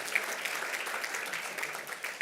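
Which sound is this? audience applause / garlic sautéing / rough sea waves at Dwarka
audience applause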